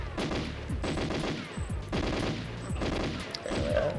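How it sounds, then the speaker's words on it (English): Rapid automatic gunfire from the GoldenEye 007 video game rattles in loud, dense bursts with short gaps, sharp and close, and no voices are heard. "just shooting at little black and green blobs off in the distance"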